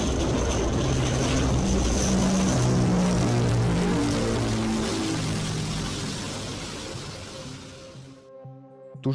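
Loud, sustained propeller-aircraft drone from the experimental Thunder Screech prototype, a harsh roar thick with low harmonic bands that holds steady for about eight seconds, then fades sharply into quieter tonal hum.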